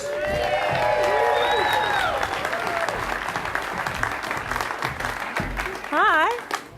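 An audience at a country music awards nominees announcement bursts into loud, sustained applause and cheering to welcome the hosts, steady clapping from many hands with a few whoops and voices mixed in, fading slightly before a burst of speech.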